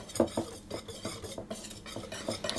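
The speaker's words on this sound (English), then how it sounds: "I'm going to just whisk those round to get them mixed into each other." Ground hazelnuts and flour being whisked together in a bowl, a quick series of light, close scraping and clinking strokes with no voices.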